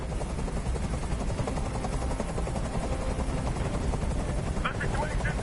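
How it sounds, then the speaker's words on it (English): A helicopter hovers in the video game Detroit: Become Human, a dense, steady rotor drone filling the whole stretch at a constant loud level, with a voice speaking over it. "I can't stand that noise anymore! Tell that helicopter to get out of here!"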